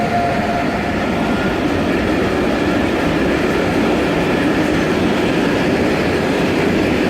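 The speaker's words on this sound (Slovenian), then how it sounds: "No, to je transportni vlak, ki bo pripeljal tovor v našo znamenito Luko Koper." A freight train in Slovenia carrying cargo to the Port of Koper rolls past on the rails, giving a loud, continuous rumble with faint wheel clatter and a brief metallic whine early on.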